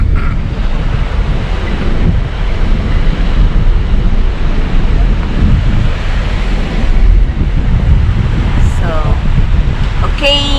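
Waves washing onto Las Salinas beach in Ibiza, a loud continuous surf roar heavily buffeted by wind on the microphone, with a few brief voices and chirps near the end.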